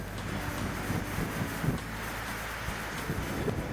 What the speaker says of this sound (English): What do you think the velocity of the wind is?